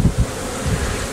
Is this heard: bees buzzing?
yes